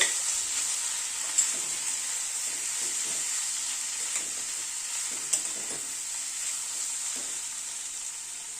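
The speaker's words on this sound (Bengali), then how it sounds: "সব মশলাগুলো দিয়ে একটু নাড়াচাড়া করে নিচ্ছি" Spices stirred in a hot pan while cooking a rohu fish curry with winter vegetables, with a steady close sizzle and hiss and occasional soft scraping clicks of the spoon against the pan.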